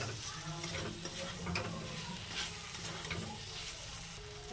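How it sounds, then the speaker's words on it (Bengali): Fried potatoes are stirred into a pan with soybean chunks, a soft scraping stir over a gentle continuous sizzle, fairly quiet and steady with a small knock at the end. "এবার এর মধ্যে ভালোভাবে মিশিয়ে নেব।"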